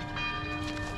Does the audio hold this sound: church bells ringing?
yes